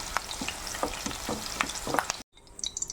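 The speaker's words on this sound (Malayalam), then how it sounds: "ഇത് നമുക്ക് ആദ്യം ഇതൊന്ന് ഫ്രൈ ചെയ്ത് മാറ്റി വെക്കാം" Chicken pieces sizzling in hot oil for Kerala chicken pickle, a loud steady frying hiss with stirring scrapes, cut short by a brief silence before the sizzle resumes more faintly.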